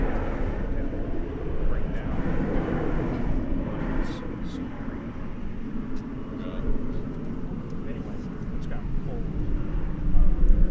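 A Frontier Airlines jet departs DFW Airport at night, a broad distant engine roar swelling and fading steadily under ongoing talk and radio chatter.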